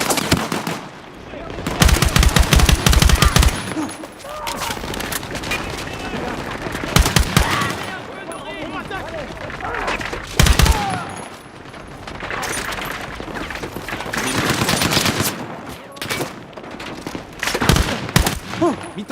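Bursts of automatic machine gun fire in the Battlefield 6 story campaign, several loud rapid volleys separated by quieter stretches, with voices speaking over the battle.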